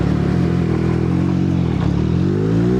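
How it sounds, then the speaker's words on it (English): A Harley-Davidson motorcycle rolling past on a street, its engine a steady low rumble that shifts in pitch as it moves by, close and fairly loud, with no talk over it. "Look at him on the Harley."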